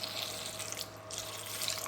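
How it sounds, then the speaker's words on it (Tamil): Water pours steadily over moringa drumsticks in a pot set for boiling, a continuous close gush with brief surges and no talking. "இந்த முருங்கைக்காய் கூட தண்ணி சேர்த்திக்கலாம் வேக வைக்கிறதுக்கு."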